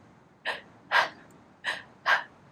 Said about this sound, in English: we take very shallow breaths